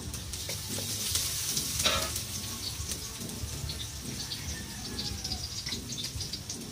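Garlic sizzles and fries steadily in hot oil in a pan for pancit, a close, continuous crackling hiss with occasional stirring.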